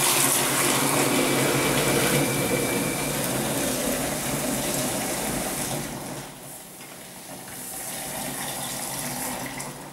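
Boiling and cold water poured into a container, a continuous loud rushing splash that steadily fills the space, easing slightly partway through as the flow changes.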